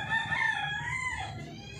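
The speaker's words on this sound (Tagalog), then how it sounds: "Ingay ng mga manok" A rooster crows in a single drawn-out call, fairly close and clear, with no talking.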